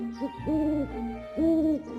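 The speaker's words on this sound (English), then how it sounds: "That's right, the owl is hooting." An owl hoots twice, soft drawn-out calls after a short lead-in note, over a faint steady background hum.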